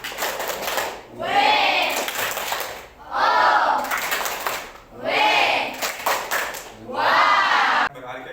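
A classroom group performs a 'tepuk wow' clap chant for group 2 during a teaching-practice session: four loud, rhythmic bursts of clapping mixed with voices chanting together, each separated by a short pause.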